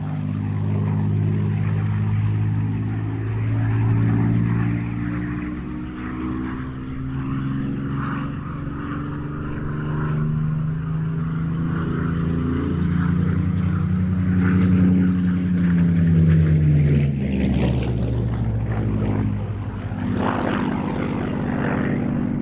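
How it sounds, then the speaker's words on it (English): A Supermarine Spitfire with a Rolls-Royce Merlin engine passes overhead at a dogfight display over Kent, a deep propeller drone that swells, shifts pitch as it passes and fades again, heard alone. "the power of the Rolls-Royce Merlin engine"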